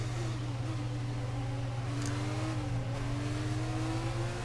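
A Williams Formula 1 car in the F1 2019 game accelerating off the race start toward turn one, its engine a steady, fairly faint whine climbing slowly in pitch over a constant low drone, with no talking.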